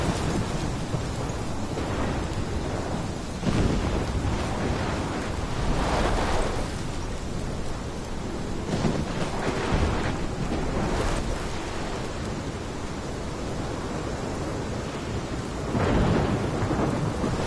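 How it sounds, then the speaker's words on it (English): A thunderstorm rages in Life Is Strange, with heavy rain, rushing wind and repeated rolls of thunder swelling into loud crashes, steady and close throughout. "This is my storm."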